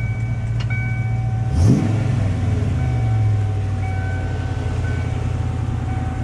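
An engine idles steadily, then revs up sharply once and settles back to a low rumble, heard up close with no talking.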